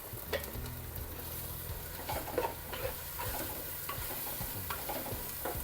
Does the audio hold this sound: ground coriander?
yes